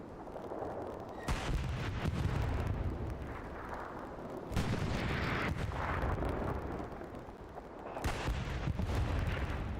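Tank gunfire in the video game Hell Let Loose, with two tanks trading shots: three heavy booms, each followed by a long rumbling tail, spaced a few seconds apart at moderate level.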